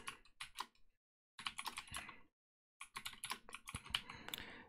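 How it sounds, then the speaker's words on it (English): Someone types a mistyped shell command on a computer keyboard in three quick runs of close, crisp key clicks, with short silent gaps between the runs and no talk. "I'm going to purposefully mistype something"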